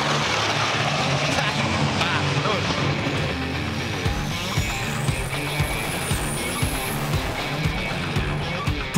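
Heavy trucks racing down a main street converted into a drag strip, engines roaring loudly and continuously with a rising whine passing by, under a French-speaking voice.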